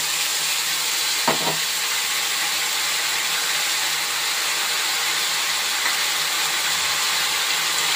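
A paste of cumin, ginger, garlic, onion and tomato sizzles in a pan with a loud, steady, broadband hiss throughout, broken only by a couple of faint knocks near the start.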